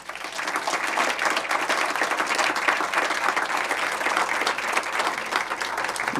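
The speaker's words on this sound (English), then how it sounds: "Let's have a round of applause for them" Audience applause at a not-for-profit summit awards presentation, a dense, even roar of many people clapping together, loud and sustained for several seconds with no talking.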